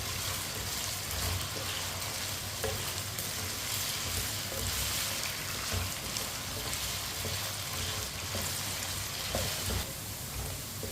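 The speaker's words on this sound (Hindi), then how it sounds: "आलू को चम्मच चलाते हुए फ्राई करना है" Potatoes fry in a pan while a spoon stirs them, giving a faint, steady hiss with occasional soft clicks and scrapes and a low background hum.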